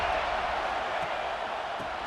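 A stadium crowd roars at a college football game between Ohio and South Carolina. The dense, steady wash of cheering and noise is moderately loud and fills the short stretch without a break.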